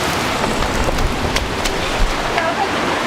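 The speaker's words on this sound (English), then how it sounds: "A torrential downpour is happening outside" Torrential rain pours down outside a hut, a steady broadband hiss of heavy downpour with scattered louder drops and spatters, close and unbroken throughout.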